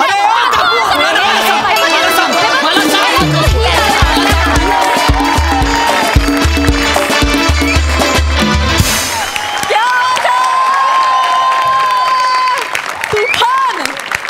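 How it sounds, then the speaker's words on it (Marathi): A studio audience at a Marathi comedy show rises in a standing ovation, loud sustained clapping and cheering with crowd chatter, continuing steadily across the whole stretch with music tones layered in. "सगळ्यांनी उभं राहून टाळ्या वाजवल्याच्या सगळंच आलं."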